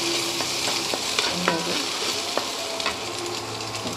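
An egg fries in oil in a pan with a steady, close sizzle and crackle, broken by a few light clinks and scrapes of stirring.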